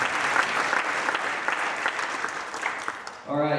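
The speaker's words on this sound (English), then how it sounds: "So, one more round of applause for all of our supporters and sponsors." A crowd applauds steadily and fairly loudly at an evening event, a continuous wash of clapping that ends abruptly as a voice begins speaking.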